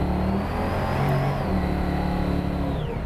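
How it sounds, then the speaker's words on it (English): A 1973 Plymouth Road Runner with a Hemi bottom end and Max Wedge Indy top end revs under light throttle, a loud, close, steady engine roar that rises slightly and then eases back over three seconds. "Here we go, a little bit of throttle."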